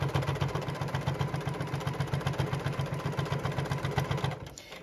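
A JUKI sewing machine stitches around a fabric bucket hat, a steady fast mechanical chatter of needle strokes running evenly for about four seconds before slowing and stopping, close and alone.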